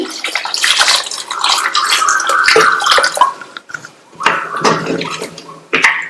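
Water gushes and splashes steadily into a pressure cooker of baby potatoes for several seconds, with brief pauses and a couple of renewed pours near the end.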